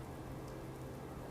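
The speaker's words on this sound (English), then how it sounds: "It's raining again." Rain in the video game Fallout 4, a steady, even hiss of falling rainfall with no breaks, soft and continuous with nothing else over it.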